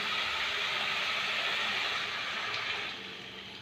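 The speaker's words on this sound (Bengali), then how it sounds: "আমি এখনই ঝোল দিয়ে দেবো।" Broth pours steadily into a pot of spiced potatoes cooking for aloo dum, a continuous close liquid rush that eases off slightly near the end.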